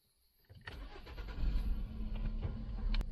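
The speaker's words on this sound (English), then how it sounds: "put the ignition key, start the car" Volvo car engine cranked with the ignition key and catching, settling into a steady idle close by, fairly quiet overall.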